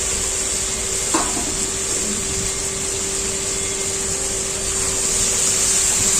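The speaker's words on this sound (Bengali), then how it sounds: "ভালো করে ডিম আলুটাকে কষিয়ে নেবো" Boiled potatoes and eggs frying in masala, a loud, continuous hissing sizzle with a steady hum underneath and a single utensil knock early on, no speech.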